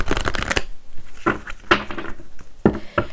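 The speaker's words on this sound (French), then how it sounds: "je vais replacer mes cartes parce que sinon, on ne verra pas les autres" Tarot cards are shuffled and gathered on a table in quick riffling bursts, followed by softer separate slaps and slides as the cards are laid back into place.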